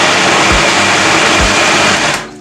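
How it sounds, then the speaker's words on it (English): A kitchen blender runs loud and steady, whirring as it blends a sauce for Nigerian gala, a dense continuous roar that cuts off near the end. "let me just blend it one more time"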